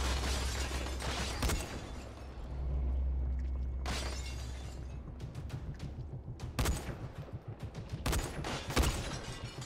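Gunfire aimed at the player in Dying Light, a zombie survival game: sharp bursts of shots cracking out in clusters over a low rumbling backdrop, several loud impacts spread across the scene.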